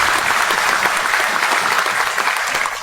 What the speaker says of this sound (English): I ask everyone here to applaud for them.